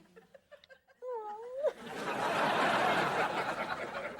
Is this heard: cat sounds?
yes